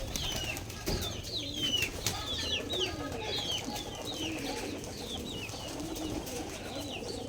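Giribaz pigeons at a pigeon farm coo and call repeatedly over a busy, steady background, with occasional soft wing flutters and bumps close by.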